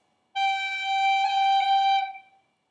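A G roll ornament on a chanter or pipes, combining a G pip and a tap in a long-short-short grouping within one sustained note that stops cleanly after about two seconds, played solo.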